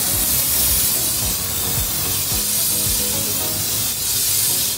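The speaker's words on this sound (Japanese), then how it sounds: "手動蓄圧式スプレーの鉄板 IK フォームスプレーだとこの感じです" IK hand-pump pressure sprayer spraying car wash foam onto a car, a steady loud hiss of pressurized foam running continuously with slight variations, close to the listener, no talking.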